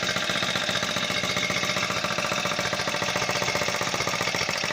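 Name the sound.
4-stroke foldable scooter engine pull-started and running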